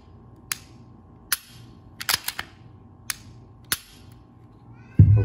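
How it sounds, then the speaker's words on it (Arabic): An unloaded Glock pistol gets a function check after cleaning and oiling: a series of sharp, close metallic clicks and snaps from the trigger and slide, irregularly spaced, in a quiet room, ending with a louder handling knock. "نتأكد من عمل المسدس."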